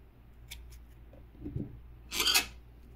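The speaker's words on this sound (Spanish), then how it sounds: "Voy a cortar este hilo." Scissors snip through crochet yarn after a Halloween hairnet is finished, giving a short, close, quiet cut near the end, with a couple of faint rubbing sounds of yarn handling before it.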